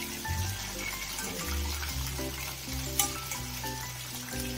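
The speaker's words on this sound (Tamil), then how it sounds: "இந்த பக்கம் கொஞ்ச நேரம் ப்ரௌன் ஆகி ஃப்ரை ஆகட்டும்" Honey chicken pieces frying in oil over a medium flame, with a soft steady sizzle and bubbling, fairly quiet and close, under background music and a single brief clatter.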